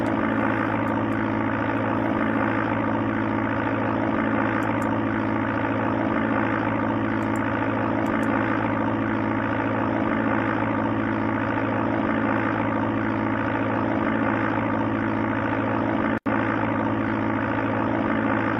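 Emulated propeller aircraft engine from Sublogic Flight Simulator II on the Amiga, a constant loud droning hum with tonal layers holding steady throughout, broken only by one brief click near the end.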